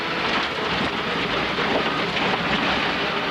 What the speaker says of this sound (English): Oh, rain, perfect timing.